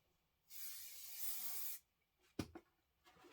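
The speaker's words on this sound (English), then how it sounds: "So I'm going to go ahead and spray my batting." A steady hissing spray from a spray can onto quilt batting lasts about a second, followed by a couple of quick rustling taps, all fairly faint in a quiet room.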